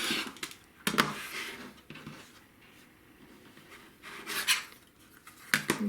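Quilt fabric being cut into triangles, a soft series of brief scraping, slicing strokes with pauses in between, close and quiet with no talk.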